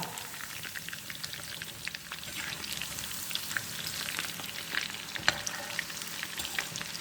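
Chilli chicken fries in hot oil with a dense, even crackling sizzle and occasional small pops, fairly quiet and close, with no talk.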